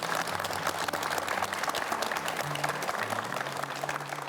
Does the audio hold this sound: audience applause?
yes